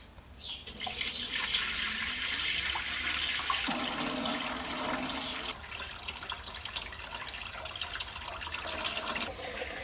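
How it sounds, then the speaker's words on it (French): Tap water pours steadily into the tank of an ultrasonic cleaner, a continuous close-up gush and splash that shifts in tone partway through as the tank fills, with no talking. "Ensuite, on met l'eau. Donc moi, je vais déjà mettre de l'eau tempérée"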